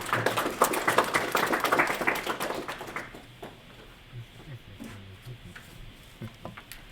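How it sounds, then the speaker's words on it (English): Conference audience applauding after a talk, a burst of clapping for about three seconds that quickly fades into quiet room murmur and scattered small noises. "Give a round of applause."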